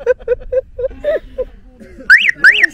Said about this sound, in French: C'est drôle leur klaxon, ça fait pas tut-tut, ça fait oui oui.